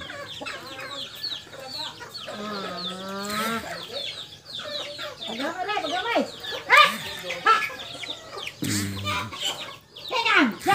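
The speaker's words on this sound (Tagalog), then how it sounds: "Mga manok." Chickens cluck and squawk close by in a lively, irregular chorus, with a voice talking over and between the calls.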